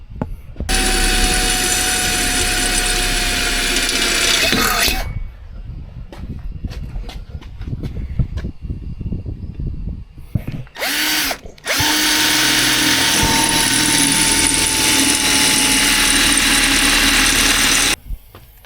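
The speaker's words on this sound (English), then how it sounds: "I like these step bits for drilling this light gauge material. This is a Milwaukee." A Milwaukee step drill bit bores through light gauge metal on a horse trailer, two long loud whining bursts of drilling separated by a quieter stretch of clicks and handling noise.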